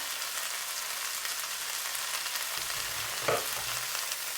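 Fish roll filling sizzling and frying in a pan, with a steady crackle throughout and a brief scrape of stirring near the end.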